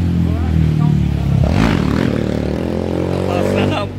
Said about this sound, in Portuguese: Passando a moto zoadenta aqui